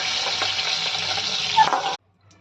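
Pointed gourd with salt and turmeric frying in hot oil, a close, steady crackling sizzle with stirring scrapes that cuts off abruptly into silence.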